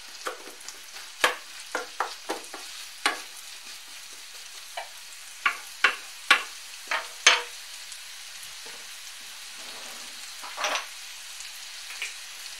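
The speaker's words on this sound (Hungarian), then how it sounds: "Megpirítom a hagymát." Onion frying in a pan under a low sizzle, broken by a series of sharp scraping stirs in uneven bursts, close and fairly quiet, with no talking.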